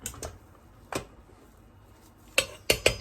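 Sticky rice being stirred in a rice cooker pot, a few sharp utensil scrapes and clinks: two soft knocks early, then a quick cluster of three louder clacks near the end, close and otherwise quiet.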